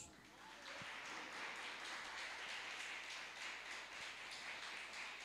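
A church congregation applauds during a Portuguese-language worship service, steady dense clapping filling the room for several seconds after a brief quieter start.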